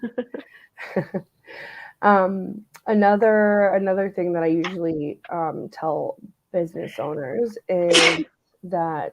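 A sharp, loud sneeze bursts out near the end of a stretch of steady conversational talk in a podcast interview.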